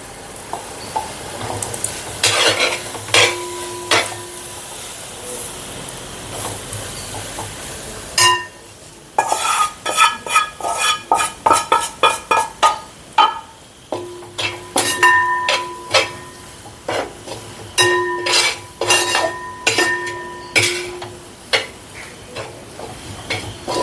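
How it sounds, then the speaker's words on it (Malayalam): Chicken curry with chili powder stirred in a pan, with repeated sharp spoon scrapes and clinks against the metal in bursts over a low frying sizzle, close up and without talk. "ഇത് നല്ലപോലെ ഒന്ന് ഇളക്കി യോജിപ്പിച്ചെടുക്കാം"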